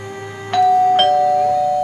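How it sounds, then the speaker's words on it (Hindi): A flat's doorbell chimes with a clear two-tone ding-dong, loud and close, its ringing tones sustaining and fading in an otherwise quiet room. "अचानक एक फ्लैट का डोरबेल किसी ने बजाया।"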